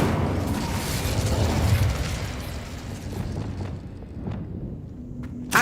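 A fire spell cast in the Hogwarts Legacy video game, heard as a sustained roaring burst of flame that fades over several seconds, ending with a brief sharp pop.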